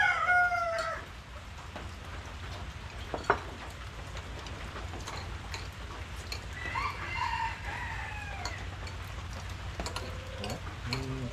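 Rooster crowing and hens clucking among small village chickens, several calls rising and falling over a steady rural background hum, fairly near, with no talk.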